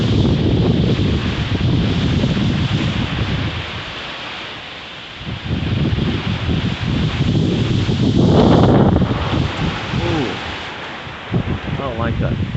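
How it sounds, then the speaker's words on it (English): Strong wind gusts roar through trees during a September wind storm, a loud broadband rush with heavy microphone buffeting that dips briefly midway and then surges again. "Burst of wind out there."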